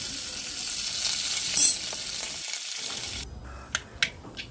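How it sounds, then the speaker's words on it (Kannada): Coconut oil tempering with mustard seeds and curry leaves sizzles steadily and close, a hot broad hiss that cuts off after about three seconds, followed by a few sharp scattered pops of seeds bursting in the pan. "ಒಗ್ಗರಣೆಗೆ ತೆಂಗಿನೆಣ್ಣೆ, ಸಾಸಿವೆ, ಕರಿಬೇವು"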